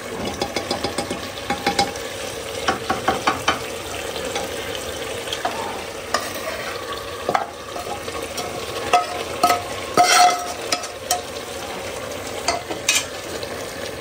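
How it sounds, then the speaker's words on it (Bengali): Beef chaap is stir-fried in a pan with steady scraping and stirring strokes over a constant frying sizzle, with a low hum in the background and no voices. "কষানো মোটামুটি হয়ে গেছে।"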